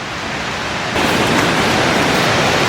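A waterfall on Iceland's Golden Circle gives a constant, dense roar that grows louder partway through as the listener moves closer, with no voices over it.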